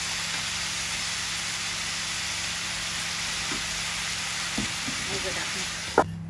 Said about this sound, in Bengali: আমাদের মাছ ভাজি হয়ে গেছে